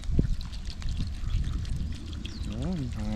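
Water pours and splashes into a cooking pot for a few seconds amid kitchen clatter, with a voice speaking in Filipino over it.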